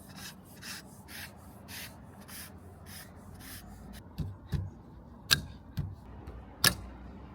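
Weather stripping pushed through a Jeep roof rail in cold weather, heard as soft rhythmic rubbing strokes followed by a few sharper scraping thuds, close and fairly quiet.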